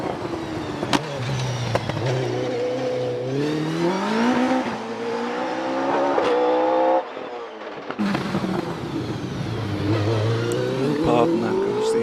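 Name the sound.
OMS 28 2.8 litre hillclimb race car accelerating past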